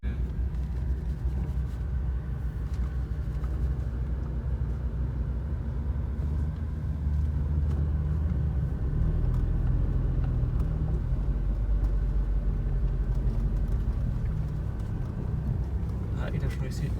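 Volkswagen Golf 5 GTI driving at the Nürburgring, a steady low engine and road rumble running throughout with a brief swell midway, while people talk over it.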